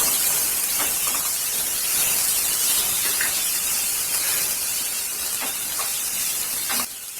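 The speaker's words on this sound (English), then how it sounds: "then garlic and green chili. And then we'll saute it" Garlic and green chili sautéing in a hot pan, a steady loud hiss and spit of frying that carries unbroken for several seconds, then drops slightly at the end.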